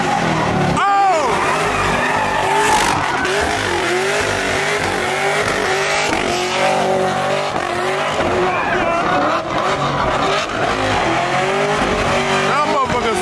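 A Nissan 350Z drifts with its engine revving loud and hard, tires squealing and skidding throughout. Excited voices shout over the constant roar of the car.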